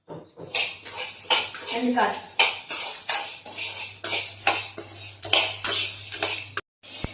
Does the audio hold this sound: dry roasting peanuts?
yes